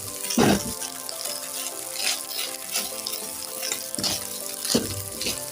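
Shrimp fried rice frying in a pan while being stirred all around, soft sizzling broken by repeated scraping pushes of a utensil through the sticky rice, fairly quiet and close.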